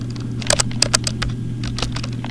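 Close typing on a computer keyboard while entering chart labels in Excel, with a short run of crisp, uneven key clicks over a steady low electrical hum.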